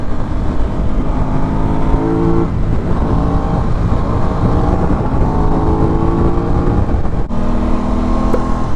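An Aprilia motorcycle braking and diving into a corner: a loud, close engine drone whose pitch steps and swings with gear changes, with a brief drop near the start and another sharp break late on, and no voices.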